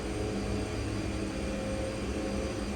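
A CRJ-200 regional jet's engines drone as a steady, broadband roar with a faint whine, constant and unbroken, with no voices heard.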